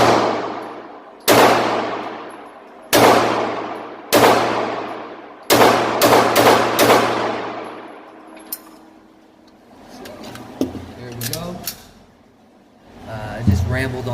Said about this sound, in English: I just rambled off those last shots.